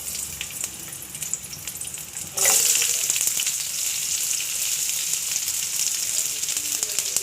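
Sliced onion, spring onion and finely chopped garlic drop into a hot pan for an American chopsuey, bursting into a loud, steady sizzle after a quieter start that holds to the end with no talk.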